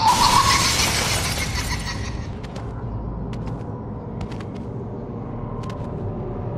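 Glass shatters in the horror video game Escape Jigsaw, a loud bright crash that rings and fades over about two seconds, then a low rumble continues with a few faint clicks.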